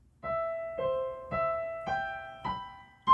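Piano playing a line of a piece from Pride and Prejudice, five clear struck notes or chords in even succession, each ringing and decaying before the next, close and unaccompanied.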